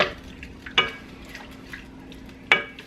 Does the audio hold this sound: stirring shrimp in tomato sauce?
yes